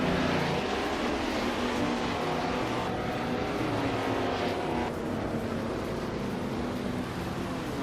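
Race car engines from a racing video game, led by a 1973 Porsche 917/30 Spyder Can-Am car, drone and whine steadily and loudly throughout with no gaps, engine tones rising and shifting as cars run together.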